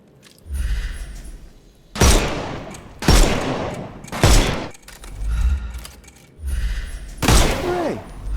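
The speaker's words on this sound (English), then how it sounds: "Shoot off their armour." Gunfire rings out in the video game Sherlock Holmes Chapter One, several loud, sharp shots, each followed by a booming, decaying tail, spaced about a second apart over a low background.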